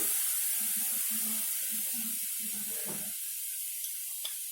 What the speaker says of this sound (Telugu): కలుపుతూ వేయించుకుందాం.